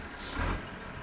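A tractor engine idles in Farming Simulator 2013, a low, steady rumbling drone with a soft whooshing swell midway, fairly quiet and without voices.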